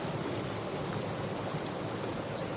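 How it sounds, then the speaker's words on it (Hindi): A glacier-fed mountain stream in Solang Valley near Manali rushes downhill with a steady, dense roar of water that never pauses. "पानी की आवाज़ सुन सकते हैं आप"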